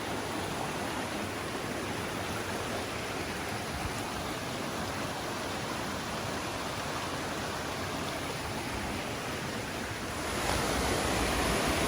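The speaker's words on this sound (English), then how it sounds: "Pretty little cascade along the way" A creek rushes over a little cascade on the way to Upper Marriotts Falls at Mt Field, giving a steady, close, broadband hiss of flowing water that swells slightly louder near the end, with no talking.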